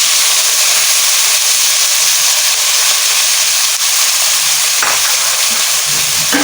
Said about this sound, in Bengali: পেঁয়াজটাকে হালকা ব্রাউন কালার করে ভেজে নেব